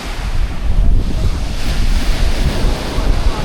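Ocean surf pounding the Jamaican shore as Hurricane Melissa approaches, with water running up onto hotel property. Loud, continuous roar of surging waves and wind buffeting the microphone, with no voices.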